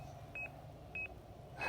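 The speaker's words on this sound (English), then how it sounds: "Sorry, this is gonna make a lot of beeping sounds." Two short electronic beeps from a lab599 Discovery TX-500 radio menu, evenly spaced about half a second apart, with a third starting at the end, over a quiet background hum.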